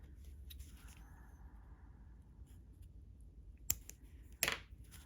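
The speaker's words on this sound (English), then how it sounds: "And then I just snip it as close as I can." Two quick, crisp snips of scissors cut yarn close to a foam hair curler, near and sharp against a quiet background with faint handling rustles before them.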